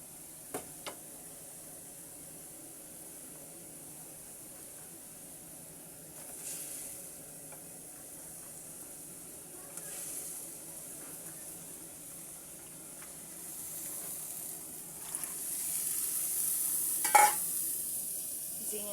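Ridge gourd and tengra fish curry stirred in a pan, with a soft, steady sizzle and a few light utensil clinks near the start and end. It is fairly quiet throughout, and no one speaks.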